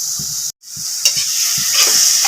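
Vegetables sautéing in a pan for a Tamil fish curry (meen kulambu), with a steady close sizzle, a brief dropout, and a few stirring scrapes of the spatula.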